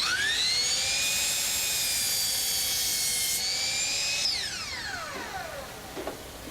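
Power drill whining at a Habitat for Humanity house build, a sustained high-pitched spin that holds steady, then winds down in a descending whir, loud and close with no talk.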